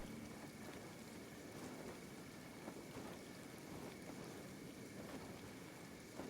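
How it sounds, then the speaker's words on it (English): Acid rain in the game Kenshi: a steady, dense hiss of rainfall with faint pattering, continuous and even throughout, with no speech over it. "That looks like that's acid rain."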